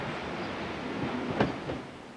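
A passenger train runs along the rails with a steady broadband rumble and a couple of faint clunks of wheels over track joints, continuous and without speech.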